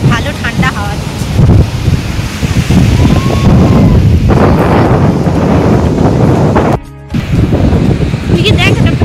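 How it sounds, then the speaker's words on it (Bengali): Cool wind gusting steadily on the beach at Puri with surf behind it, buffeting the microphone loudly and continuously for most of the stretch, with voices talking over it. "এই সময়টা বেশ ভালো ঠান্ডা হাওয়া দিচ্ছে"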